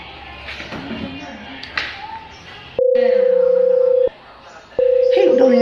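A telephone is dialed to place a call: a voice speaks over soft background, then two long steady tones sound loud and close, separated by a short pause.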